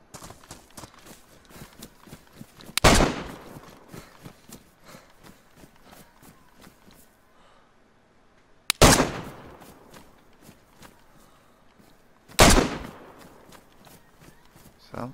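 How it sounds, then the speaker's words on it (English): Gunfire in a video game comes as three sharp, loud single shots spaced several seconds apart, each with a short fading tail, over quieter footsteps and background game noise. "Shooting at that damn freshie."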